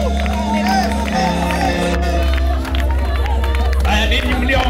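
Church congregation at a prayer service shouting for joy and clapping, a loud, dense mass of overlapping voices and applause with people talking throughout.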